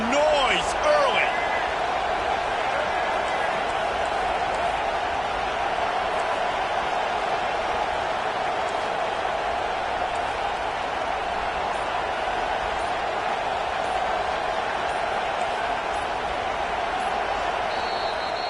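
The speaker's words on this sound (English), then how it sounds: "This crowd bringing the energy and noise early." A loud stadium crowd at a college football game involving Ole Miss keeps up a steady, roaring wall of cheering and noise for the whole stretch, with a brief voice near the start.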